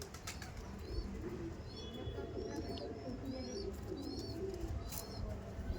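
Andhra pigeons in a loft coo in low, steady murmurs across the whole stretch, with a few thin chirps from other birds rising above them.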